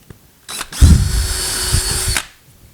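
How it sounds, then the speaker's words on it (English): A power drill whirs up and bores through thin plastic car trim during a C6 stereo install, a brief trigger blip, then a loud sustained whine for under two seconds before stopping, heard alone at close range. "a good way is to drill through that plastic piece"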